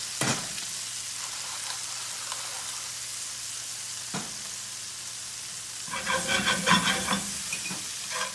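Tomatoes and fresh thyme sizzle in an iron skillet with a low steady hiss, interrupted by a couple of brief utensil knocks, then a louder burst of spattering and stirring near the end.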